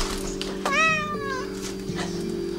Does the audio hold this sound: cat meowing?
yes